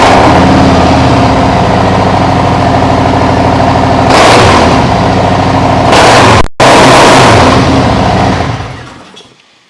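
A 2021 Harley-Davidson CVO Road Glide with Tab Performance 50 Cal slip-on mufflers idles loud and close with a deep, choppy exhaust note, blips the throttle twice, cuts out for a split second, then shuts off and fades.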